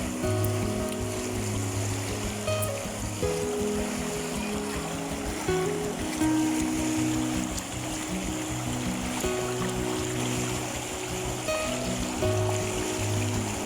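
Water of a stream flows steadily in a continuous close rushing wash, with a faint low engine hum underneath and no talk.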